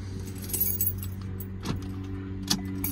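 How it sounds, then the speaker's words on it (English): Keys jangle close by while a Toyota Venza is switched off with its key, metallic clinks over a steady low engine hum, with no talking. "We turn the vehicle off."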